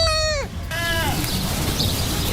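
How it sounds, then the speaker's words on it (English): Baby goats in California bleating, two loud wavering cries in quick succession close by, followed by a steady noisy background with no talk. "Their wobbly legs and those little goat noises."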